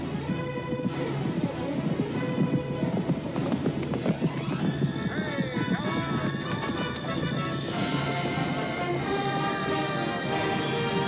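Horses called fire mares gallop with rapid clip-clop hoofbeats and occasional whinnies, a continuous dense run layered under music throughout.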